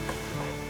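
Enoki mushrooms and softened carrots stir-fried in a pan with a splash of water, giving a steady close sizzle with faint stirring scrapes.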